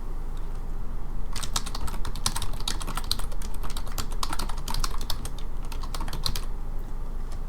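Fingers type on a computer keyboard, a quick, irregular run of close, crisp key clicks in bursts over a low steady hum, with no voices.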